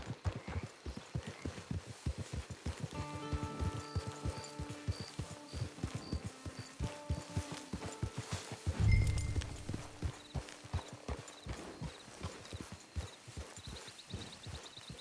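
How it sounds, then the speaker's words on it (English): Steady horse hooves clip-clop at a walking pace in Red Dead Redemption 2 Online, close and regular, with soft tonal game music playing underneath and a brief low thump midway. "It's your horse."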